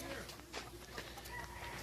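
Chickens clucking faintly amid steady background noise, a few short rising calls scattered through a brief stretch.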